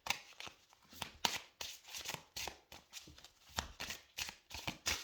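Oracle cards being shuffled by hand: quiet, soft riffling bursts repeat in an irregular rhythm, each a brief papery flutter, close but faint with no talk.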